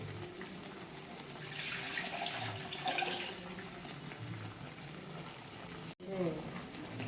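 Water is poured into a pot of chicken gravy, a soft, quiet stream of splashing that swells and fades, with a brief gap near the end and a low background murmur.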